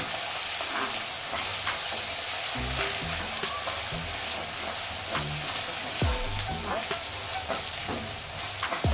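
Steady, close sizzling of garlic frying in hot oil for a cabbage and eggplant dish, with occasional stirring scrapes and soft clinks from a utensil against the pan.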